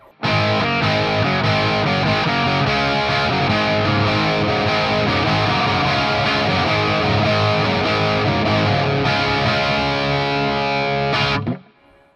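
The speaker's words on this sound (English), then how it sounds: "We are on the crunch, the blue channel of the EVH" An Epiphone Les Paul Prophecy electric guitar played through the crunch channel of an EVH amp, giving a continuous, loud distorted stream of strummed and picked chords that cuts off abruptly near the end.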